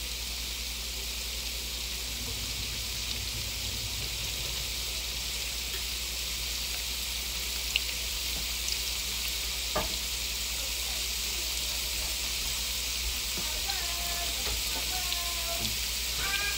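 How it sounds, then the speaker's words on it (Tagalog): Carrots and potatoes frying in a pan while pork menudo is cooked, a soft continuous sizzle with faint stirring clicks, quiet and close. "Kaya piniprito natin yung carrot at saka yung patatas guys para hindi ganun mapanis yung ating ulam."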